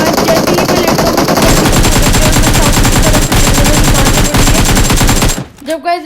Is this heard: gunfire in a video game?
yes